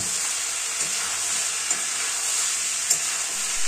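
Chicken curry with fried potato pieces stirred in a pan, a steady loud sizzle throughout with faint scrapes of the spoon rising now and then, no voices.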